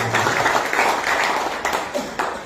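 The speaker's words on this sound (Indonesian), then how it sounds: "Berikan tepuk tangan." Church congregation applauding during a Sunday service, a dense burst of many hands clapping that fills the space and holds steady, loud and close, with a few louder individual claps near the end.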